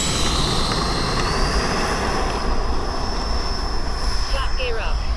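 An RC model jet with half flaps and half throttle roars steadily as it takes off, a loud continuous turbine whine with a high tone holding throughout, while a person talks over it.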